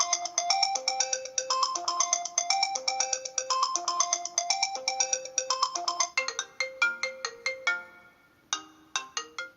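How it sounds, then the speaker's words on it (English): An iPhone plays its Circuit ringtone, a bright, rapid run of electronic chime notes repeating in a steady pattern. The notes sound close and clear with no talking, then break into shorter bursts with gaps near the end. "So that's the tone you hear every time your phone rings."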